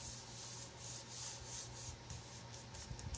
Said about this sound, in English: And then I'm just going to take my hand and rub it down.